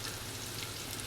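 Mustard seeds and fenugreek spluttering in hot oil for a pickle, a dense, steady crackling sizzle with no voices.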